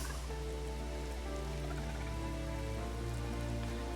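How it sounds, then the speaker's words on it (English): Steady rain pours down in a constant wash during a video game thunderstorm, with a low rumble beneath it and no voices. "Another thunderstorm's coming through."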